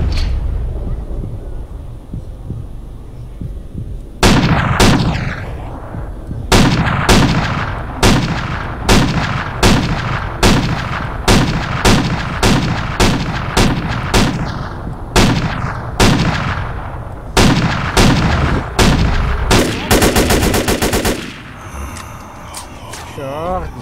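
Gunfire in GTA San Andreas with a zombie mod, loud rapid shots, some single and some in quick bursts, continuing for over fifteen seconds against game background noise.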